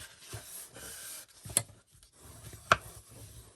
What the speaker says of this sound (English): so just make sure they're nice and lined up, and just fold and burnish